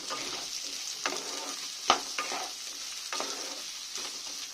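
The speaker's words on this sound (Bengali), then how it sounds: "একটু ভালো করে পেঁয়াজটাকে লাল লাল করে নেব।" Chopped medium-sized onions fry in a pan for a mutton gravy, giving a soft, steady sizzle broken by a few sharp scraping stirs and clicks from a utensil.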